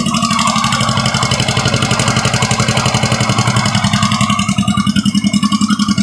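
Yamaha Mio 125 M3 motorcycle, a smoking scooter with worn piston rings, idling close by in a steady, loud mechanical rattle that rises slightly toward the end, with no talking.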